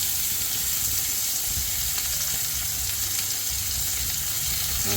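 Kansas City strip steaks frying in butter in a cast iron skillet, a loud, continuous close sizzle and crackle that holds steady from start to finish.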